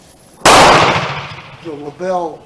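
A single loud rifle shot from a Model 1916 Berthier firing reloaded ammunition outdoors, a sharp blast trailing into a decaying echo, followed by a short voice.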